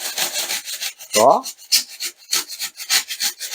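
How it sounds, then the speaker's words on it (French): Handsaw cutting through polystyrene insulation backed with plasterboard, rapid rhythmic rasping strokes close up, with someone speaking briefly. "Mais tu coupes que le polystyrène."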